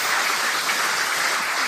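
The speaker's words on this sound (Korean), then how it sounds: "잠깐 박수 부탁드리겠습니다" An audience claps after a lecture on the Jeju naval base, giving a short burst of dense, close applause that lasts under two seconds.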